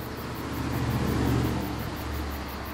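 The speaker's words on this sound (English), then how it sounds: "It's a car driving by. A really loud fucking car." A loud car passes in film audio, a broad engine rumble that swells toward the middle and eases off, heard alone without talking.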